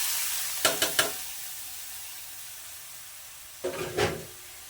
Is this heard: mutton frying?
yes